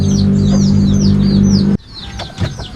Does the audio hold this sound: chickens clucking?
yes